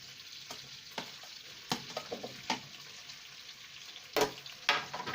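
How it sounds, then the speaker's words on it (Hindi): Tomato and onion sauté in hot oil with a soft, steady hiss, broken by scattered clicks and scrapes of stirring; quiet and close, with no talking. "टमाटो और प्याज को अच्छे तरीके से हमने एक दफ़ा भून लेना है"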